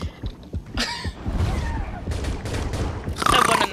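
Gunfire in the underwater shooter game Depth: several sharp bursts of shots and thumps arrive in clusters, mixed with a brief grunt and other game noises, fairly loud and close.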